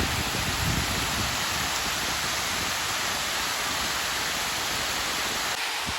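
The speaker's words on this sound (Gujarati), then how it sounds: "એવું સરસ મજાનું ઉપરથી પાણી પડે છે જોવો તમે" Water falling from above at Dhareshwar, near a well, gives a steady, dense rushing hiss with no break, loud and close across the whole stretch and with no voices.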